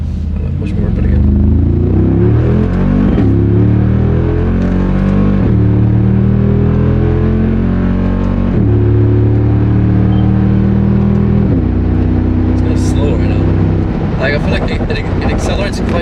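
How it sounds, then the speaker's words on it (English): A car's engine drones loudly and close, its pitch climbing through several gears with shifts between them, the rising notes flattening out in the higher gears; no one speaks over it. "It accelerates quite quickly, but after 4th gear, it just gets super slow, like acceleration-wise."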